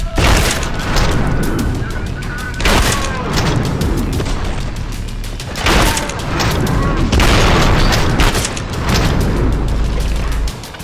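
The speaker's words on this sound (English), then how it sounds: "Does this shotgun live up to the great legacy of Fear's shotgun?" Shotgun blasts go off in Trepang2, a first-person shooter, as several loud booming shots with chaotic gunfire and explosions between them. A voice talks over the action.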